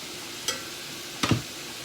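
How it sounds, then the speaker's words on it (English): Ground beef sizzles in a skillet under a soft, even hiss, punctuated by two quick stirring scrapes. "Now I'm finna add my ground beef."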